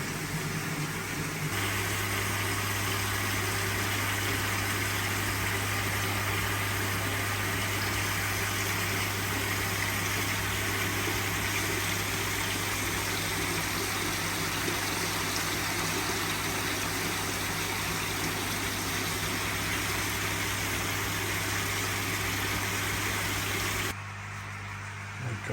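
A steady mechanical hum of a pond pump runs continuously with a watery wash beneath it, unchanging throughout and cutting out at the very end.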